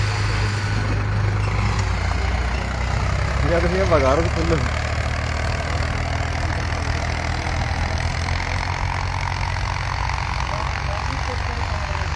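JCB excavators idle at a demolition site, a steady low diesel drone running continuously throughout, with a brief voice or siren-like warble partway through.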